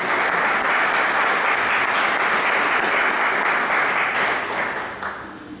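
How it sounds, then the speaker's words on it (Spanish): A large audience applauds loudly and steadily, a dense wash of clapping that holds for several seconds before tapering off at the end. "el licenciado Alberto del Pino Mesch, a quien le damos la bienvenida con un gran aplauso."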